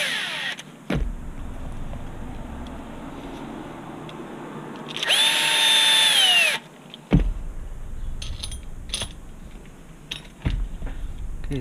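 A power drill driving screws into an HB Racing D817V2 RC buggy kit whirs in one sustained burst of about a second and a half, winding down at the end, with quieter clicks and handling noise around it.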